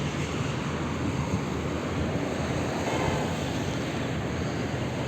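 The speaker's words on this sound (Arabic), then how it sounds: "البحر الجميل تحفة." Waves wash continuously onto the sandy beach at Camp Caesar in Alexandria, a dense, steady roar of surf mixed with wind buffeting the microphone, with no talk.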